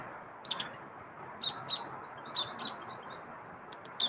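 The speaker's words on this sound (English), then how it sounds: "Multiple birds." Thin, high bird chirps come in scattered short bursts from a few birds, fairly faint over a constant background hiss.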